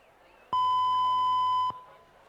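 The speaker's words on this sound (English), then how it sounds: "the buzzer's gone, and that's indicating a start for the school second 4 event" Electronic start buzzer at a schoolboys' rowing race, a single loud, steady tone lasting just over a second that cuts in and out sharply over faint background noise.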